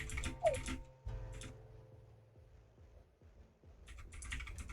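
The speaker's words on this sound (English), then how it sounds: "You hear what letters he's typing?" Soft computer keyboard typing comes in brief bursts of clicks between quiet stretches, faint and close during an online tabletop game session.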